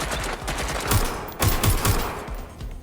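Gunfire in the video game Watch Dogs Legion, with several sharp, loud shots and a short burst that rings out over ambient game noise. No one speaks.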